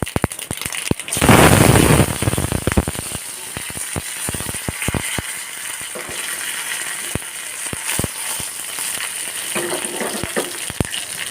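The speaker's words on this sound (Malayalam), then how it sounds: "വെളിച്ചെണ്ണ ഒഴിച്ചു കൊടുക്കാം രസം താളിക്കണം" Coconut oil hisses and sizzles loudly as rasam is tempered, with a sharp burst of frying at the start that settles into a steady crackle dotted with popping spatters, and no voices.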